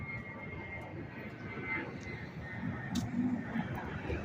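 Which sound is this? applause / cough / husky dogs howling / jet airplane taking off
jet airplane taking off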